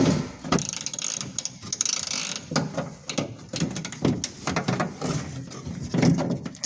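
A 3/8-inch socket set ratchet loosening a part during electric window repair on a First Gen Cummins truck, giving quick repeated clicking and mechanical rattles close by, with no talk.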